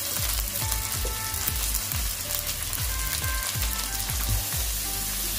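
Green onion with chopped onion and half a tomato fries for manchurian in a hot pan, a loud, continuous crackling sizzle with low thumps from the pan throughout.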